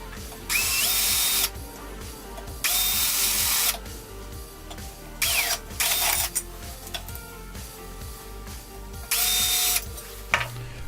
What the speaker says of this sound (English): Once I drilled the holes, I bolted the L-shaped bracket to the cam cover